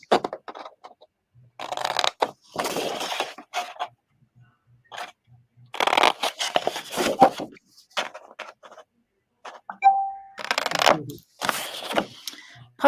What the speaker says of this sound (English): So I'm just going to go around with my scissors and chop these.